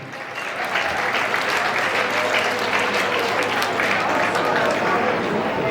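An audience at a live event applauds with loud, dense clapping that stays steady for the whole stretch.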